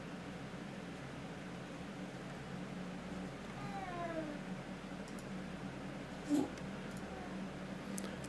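A cat meows softly a couple of times indoors against a steady fan-like hiss, with a brief knock partway through.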